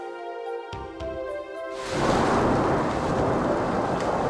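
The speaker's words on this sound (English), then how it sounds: "There are many thunderstorms in winter." Winter thunder rolls over Mount Hakusan in Japan, a deep, broad rumble that builds in after a few seconds of gentle tonal music and keeps grumbling to the end.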